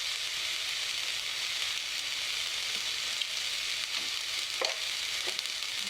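Spices, including turmeric, cumin and coriander powder, fry in a pan for a coconut and taro-leaf curry with a soft, steady sizzle and a few faint stirring scrapes.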